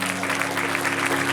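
A church congregation applauds loudly and continuously, dense clapping filling the space for about a second with a low steady hum beneath.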